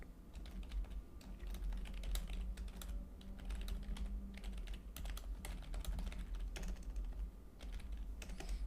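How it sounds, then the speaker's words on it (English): Rapid typing on a computer keyboard, quick irregular key clicks that pause briefly and then resume, heard close and alone against a low background hum. "I'm typing to you, Gaga Dreams"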